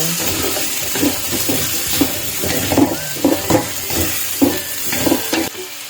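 Chicken adobo sizzles in hot cooking oil, with a loud, close, steady hiss and a rhythmic run of stirring scrapes and bubbling spatter about every half second, and no talking.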